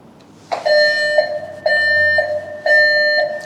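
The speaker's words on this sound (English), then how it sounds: "that's the prepare to evacuate" A loud building evacuation alarm sounds the prepare-to-evacuate signal in three repeated beeping bursts, each a harsh tonal blare with short gaps between them.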